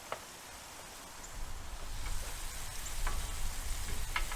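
Clarified butter sizzling on a hot Blackstone griddle, a soft steady hiss that swells slightly, with a few light scraping ticks as it is spread, no voices.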